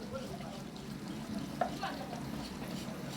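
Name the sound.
onion sautéing in a pan with turmeric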